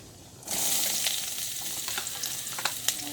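Chopped bitter gourd lands in hot oil with mustard seeds for a thoran, and a loud steady sizzle kicks in and holds close by. Faint scrapes of stirring come through underneath.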